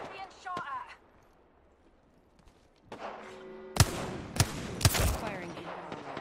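Gunfire in the Apex Legends battle royale game: scattered sharp shots ring out over the last few seconds, loud and fairly close, after a quieter stretch with faint background chatter.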